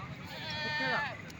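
A goat bleats once in a drawn-out, wavering cry amid the murmur of a busy livestock market, with people talking nearby.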